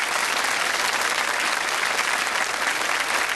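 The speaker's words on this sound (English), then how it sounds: "A big round of applause for the 3 of them" A 1995 television game show studio audience gives a steady, dense round of applause, an even wash of many hands clapping with no break and no voices on top.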